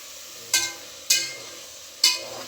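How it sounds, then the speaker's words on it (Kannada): Carrots, beans and potatoes stirred into masala in a pan, three distinct scraping strokes of a spoon against the metal, close and fairly loud, with a faint sizzle between them. "ಸ್ವಲ್ಪ ಈ ಥರ ಮಸಾಲೆಯಲ್ಲಿ ಮಿಕ್ಸ್ ಮಾಡ್ತಾಯಿದ್ದೀನಿ."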